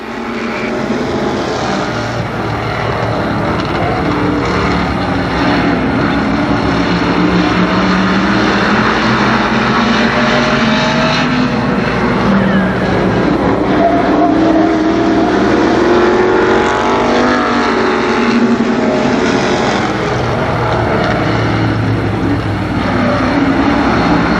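Stock cars race at Columbus Motor Speedway in a 1991 event, their engines forming a loud, continuous roar that swells and fades slightly as the pack circles the track.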